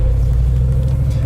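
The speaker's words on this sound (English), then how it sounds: "Don't probably need many excuses to drive a Jeep around, huh?" A 500 HP Hemi-swapped Jeep JK drives across open Colorado land with a steady, deep engine rumble and road drone that stays loud and close throughout.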